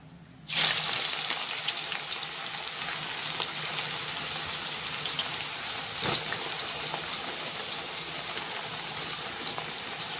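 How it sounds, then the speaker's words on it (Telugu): Bitter gourd pieces drop into hot oil for a pickle and burst into a loud, steady deep-fry sizzle that holds evenly, with a brief extra crackle partway through. "ఇదే విధంగా ఇట్లనే డీప్ ఫ్రై చేసుకోవాలి."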